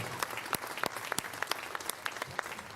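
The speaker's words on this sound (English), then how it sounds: "Everybody give Malcolm a round of applause" An outdoor crowd at a political rally breaks into brief, moderately loud applause, a scattered burst of clapping with a few sharp individual claps standing out.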